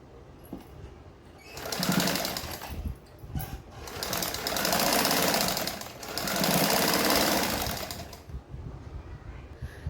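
An electric sewing machine stitches a katori blouse in several bursts of fast, rattling running, each a few seconds long, with short pauses between them and no talking.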